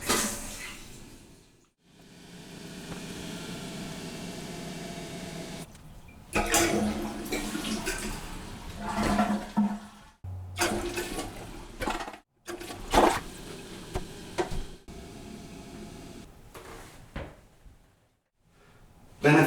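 After its water supply is turned back on, a toilet tank refills in a freshly floored bathroom with a hissing inflow broken by gurgles, knocks and pauses, fairly close and with no talk.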